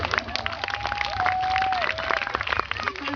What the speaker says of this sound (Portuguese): E todos bateram palmas.